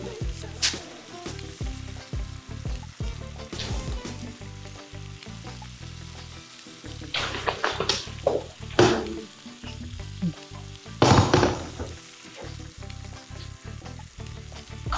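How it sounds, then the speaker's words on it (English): Stewed saltfish sautés in a pan for a St. Kitts and Nevis dish, sizzling steadily and loud up close, with stirring scrapes and bursts of crackle throughout. "So we let it saute a bit."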